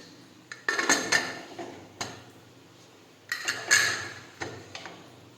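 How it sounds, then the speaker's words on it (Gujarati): A metal pressure cooker lid is handled and closed over boiling lentils, giving a series of clanks and scraping metallic knocks in two clusters, close and fairly loud against a quiet background. "હવે આપણે કુકરનું ઢાંકણ છે તે બંધ કરી દઈશું."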